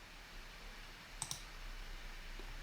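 Two quick, faint computer mouse clicks land close together against a quiet room hiss while counting items in Bluebeam software, with no talking.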